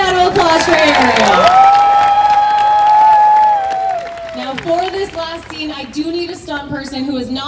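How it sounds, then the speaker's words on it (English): A theme-park show crowd at Universal Studios Hollywood's Animal Actors cheering and clapping loudly, with shouts and whoops that fade into scattered voices. "How about a big round of applause for Ariel?"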